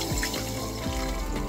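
Water is poured into a beaker with urea fertilizer in it, a close, steady trickling splash lasting a second or two, with no talk.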